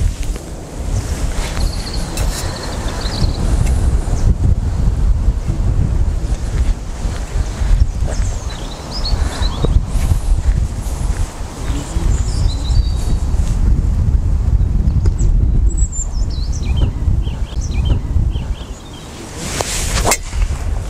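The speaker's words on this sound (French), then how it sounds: "Le vent pousse vers la droite." Strong wind gusting on a nine-hole golf course, loud continuous buffeting and rushing across the microphone for the whole stretch, with a brief lull near the end before it surges again.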